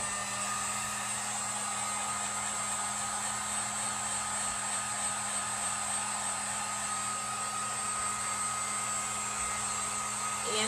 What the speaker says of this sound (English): I'm going to use a heat gun on it just to dry it up a bit.